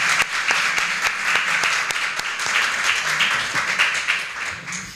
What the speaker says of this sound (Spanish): Por favor, vamos a aplaudir.